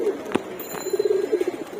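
Pigeons at a sky pigeon loft give soft, repeated cooing calls close by, with a couple of faint clicks and sharp knocks in the background.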